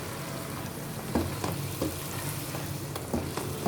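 Boiled dal frying in a pan gives a steady, dense sizzle throughout, broken by several soft scraping stir strokes at irregular intervals.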